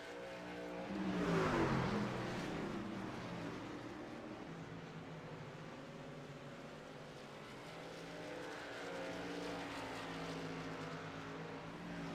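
Race trucks of the Performance Motorsports Truck Series racing at night at Richmond: a distant, steady roar of engines with one truck sweeping past in a rising-then-falling whine, faint and broadcast-like.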